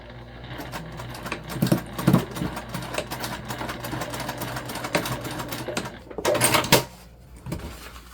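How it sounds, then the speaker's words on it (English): A sewing machine runs a quarter-inch seam across a fabric beach pouch, a steady close mechanical whir with brief louder bursts and a short pause near the end, no talking. "we're gonna sew it again 1/4 inch all the way across."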